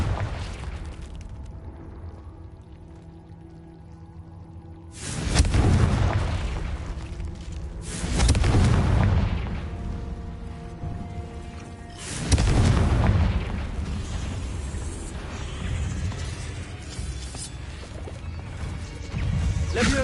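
Confringo spell explosions in a fantasy video game cave, three heavy booming blasts a few seconds apart, each a loud crash with a rumbling decay, over a low ambient game backdrop.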